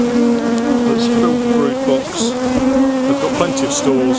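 Honey bee colony, caught as a swarm, buzzing loudly and close in an open hive, a dense steady drone with shifting pitches from many bees, while someone talks briefly over it.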